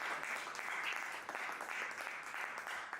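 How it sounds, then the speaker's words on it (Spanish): A church congregation applauding during a sermon, a steady wash of many hands clapping that sounds somewhat distant and quiet, with no speech over it. "Denle ese aplauso fuerte a Él"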